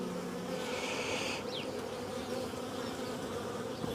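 Honeybees swarm around an opened beehive during a frame inspection, their dense buzzing hum steady and close with no talking over it.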